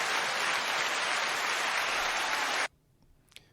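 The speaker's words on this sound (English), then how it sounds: "I love that overwhelming applause you guys gave me." Audience applause fills the room as a dense, loud wash of clapping for nearly three seconds, then cuts off abruptly, leaving near silence with a few faint stray sounds.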